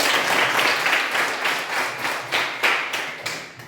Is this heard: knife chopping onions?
no